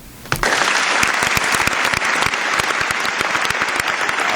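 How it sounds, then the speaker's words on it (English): A podcast studio group breaks into a round of applause, sudden loud clapping that starts just after the opening and carries on sustained and dense to the end. "Round of applause for Period. this fucking man,"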